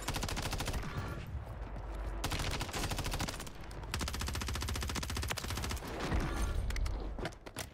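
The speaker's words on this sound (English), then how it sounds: "I whiffed my shots" Sustained automatic rifle fire in Call of Duty Warzone on Rebirth Island, dense rapid shots rattling loud and near almost without break, a few short gaps between bursts, trailing off at the end.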